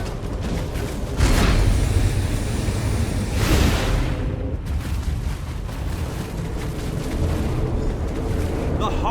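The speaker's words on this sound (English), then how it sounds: "Harvest Heart is destroyed!" The Harvest Heart is destroyed in The Elder Scrolls Online, a loud rumbling boom with roaring, crashing debris that surges twice before settling into a sustained low roar.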